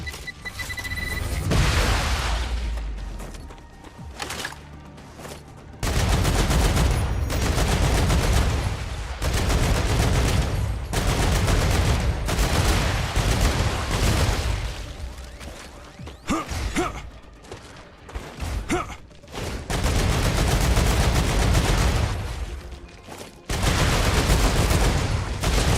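Gunfire in the Star Rupture video game, loud, close bursts of rapid automatic fire with heavy booms, broken by short pauses before the shooting resumes.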